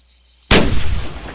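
A single loud gunshot goes off close by while hunting game animals in the field, a sharp sudden blast after near silence, followed by a booming rolling echo that fades out.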